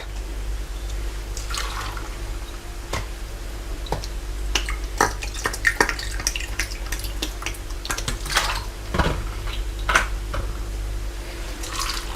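Vinegar poured from a coffee cup into glass jars of olives being pickled, giving close trickling, splashing liquid and clinking glass over a steady low hum, with no one speaking.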